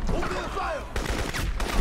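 Rapid gunfire from a first-person shooter, the video game Crysis, with bursts of shots and busy battle effects over a steady low rumble, loud and close throughout.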